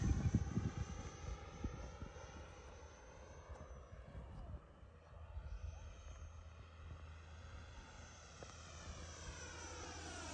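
A Banana Hobby Fly Fans 64mm L-39 RC jet whines steadily in the air on its maiden flight, its ducted-fan tone sliding slowly up and down as it passes at a moderate distance. The level is faint, and wind noise is heavier early on.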